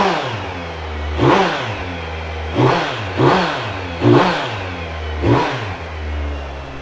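A 2017 Kawasaki Z900 ABS motorcycle engine idles with a steady low rumble, then is blipped through five sharp throttle revs spaced about a second apart, each rising and falling back to idle, close and clear with no talking.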